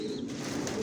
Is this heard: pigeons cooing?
yes